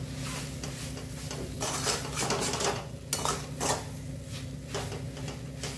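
Capsicum and gram-flour pitla being stirred and turned in a pan, with repeated metallic scrapes and clinks of a spoon against the pan over a soft sizzle, close by.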